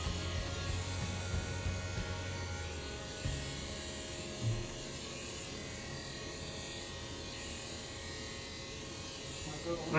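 An electric trimmer grooming a Shih Tzu's coat gives off a steady, close, low buzz that runs without a break, with a person talking over it.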